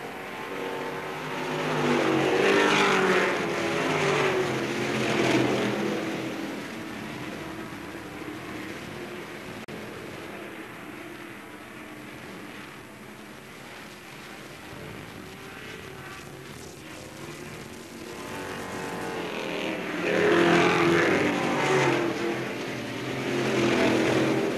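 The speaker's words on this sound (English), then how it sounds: "Moon, you're leading down the back stretch with Sims in second, Oder third, and Jaggers in fourth." Race cars roar around the Bureau County Speedway track, a continuous engine drone that swells as the pack passes near at the start and again near the end, with a lower, steadier stretch between.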